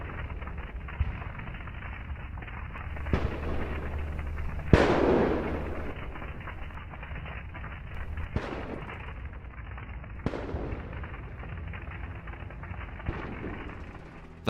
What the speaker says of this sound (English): Fire everywhere, shell detonation, smoke.